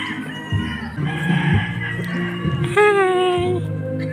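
Black chickens cluck in short, close bursts on a farm, then a rooster crows once loudly with a long, drawn-out call over the clucking.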